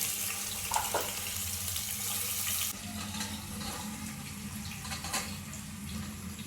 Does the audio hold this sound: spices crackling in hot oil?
yes